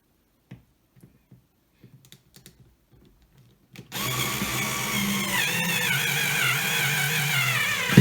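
After a few faint handling clicks, a power drill starts up and runs steadily for about four seconds, driving a screw into wood for a homemade clothes-drying rack.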